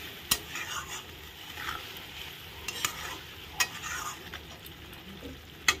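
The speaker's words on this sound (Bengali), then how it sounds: "এখন মশলাটা ভালো করে কষানো হবে" Spice paste for a curry made with a large boal fish head sizzles quietly in a pan, with a soft frying hiss under sharp, irregular clinks and scrapes of a spoon stirring against the metal.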